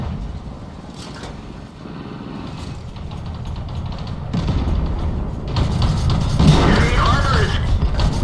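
Heavy thuds and booming impacts as shells strike enemy tank armor in a tank video game on a proving ground, repeated hits with mechanical clanks under a synthetic announcer voice.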